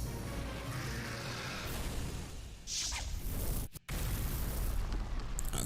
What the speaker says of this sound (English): so a giant great explosion